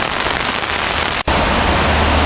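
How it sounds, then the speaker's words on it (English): Steady, loud rain falls at the Cornwells Heights train station, a dense unbroken hiss that drops out for a split second partway through. "More to come as we take shelter here at Cornwells Heights with the rain."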